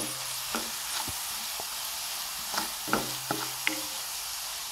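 Red chili powder stirred into onions frying in a pan: a steady sizzle with occasional soft knocks and scrapes of the spoon against the pan, close and alone.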